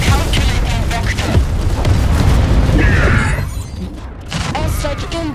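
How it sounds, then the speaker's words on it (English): Deep booms and crackling bursts mark an airstrike in the strategy video game Tempest Rising, loud and dense over rumbling battlefield noise before the blasts briefly fade and return. "Airstrike inbound."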